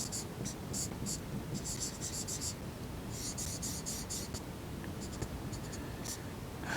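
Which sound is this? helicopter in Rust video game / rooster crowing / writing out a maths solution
writing out a maths solution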